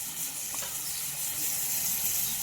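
Spices sautéing in a pan give a soft, continuous sizzle with faint stirring, fairly quiet and even throughout.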